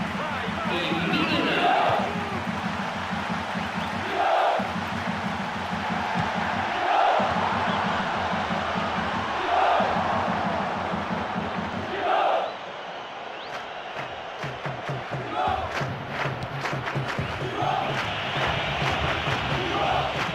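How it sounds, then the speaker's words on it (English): A stadium crowd in the football video game PES 2013 chants and roars in rhythmic surges during a knockout-round tournament match, steady and moderately loud, with commentators talking over it. "Plenty of intensity and passion among the crowd today for this first knockout round match in the tournament."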